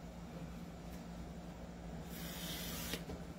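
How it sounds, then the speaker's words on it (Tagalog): Aerosol lubricant sprayed onto a firearm magazine during maintenance, a steady close hiss that swells louder in the second half, with a brief extra burst near the end. "Spray dito, then spray dito, sir"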